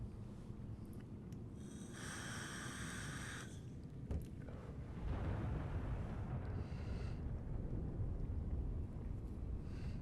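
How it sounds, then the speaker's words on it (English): Deep rumbling booms, like thunder or explosions, roll outside in the Subnautica Below Zero survival game, a low sustained roar that swells midway and lingers beneath brief tonal game sounds. "Why am I hearing explosions outside?"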